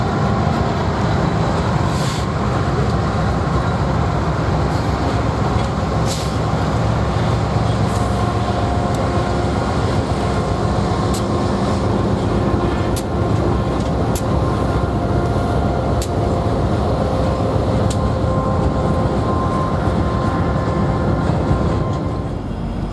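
A CN freight train, a transfer job running between Homewood and Kirk, rolls past close by with a steady, continuous rumble and wheel noise, and faint clicks and squeals over the rails throughout.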